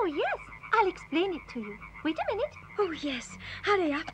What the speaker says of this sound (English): What you can hear is all the little frogs in the ponds giving a concert.